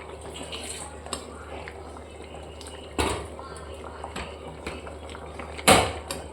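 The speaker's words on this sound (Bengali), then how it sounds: "এটা আরও 5 মিনিট ফুটিয়ে নেব।" A pot of koi fish curry simmers on the stove with a low steady bubbling, broken by a few sharp clanks of a utensil against the pot around the middle and near the end, while a voice talks over it.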